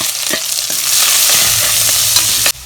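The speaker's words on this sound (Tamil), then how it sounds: "பட்டை, கிராம்பு, ஏலக்காய், பிரிஞ்சாயம் எல்லாமே போட்டிருக்கேன். வெங்காயம் போடுறேன்." Sliced onions land in hot oil already frying cinnamon, cloves, cardamom and bay leaf for chapathi kurma, giving a loud, close sizzle with stirring scrapes that cuts off abruptly near the end; no talk.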